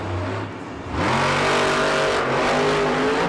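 A monster truck engine at a Monster Jam arena event in Houston idles, then roars into a loud, sustained rev with rising and falling pitch, close and dominant.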